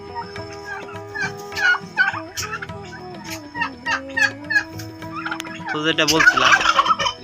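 A flock of turkeys gobbles repeatedly on a hobby poultry farm, loud rattling bursts close by, overlapping and building to a dense chorus at the end, with someone speaking briefly among them.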